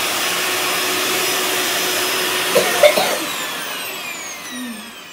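A vacuum cleaner in poor running condition drones with a steady whine, then clunks and bumps midway before its motor pitch winds down and fades toward the end, with no voices over it.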